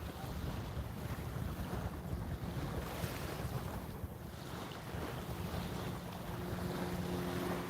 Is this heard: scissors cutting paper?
no